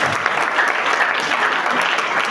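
Church congregation cheering and applauding loudly for the Lord during a French-language service, dense steady clapping and shouts filling the room without a break.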